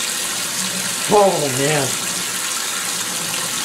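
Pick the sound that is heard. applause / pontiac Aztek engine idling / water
water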